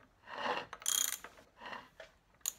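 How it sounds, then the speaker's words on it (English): Intermittent scraping and rubbing of a Norton Commando 750 motorcycle drive chain against the inner primary, in a few short rough bursts with a faint clicking. "This chain's rubbing on that inner primary."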